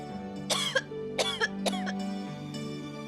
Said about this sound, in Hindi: उनको वैसे भी बहुत खांसी हो रही है